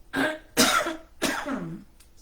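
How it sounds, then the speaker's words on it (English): Three harsh coughs in a row, close and loud, with short pauses between, no speech. "every time I start talking, I get coughing"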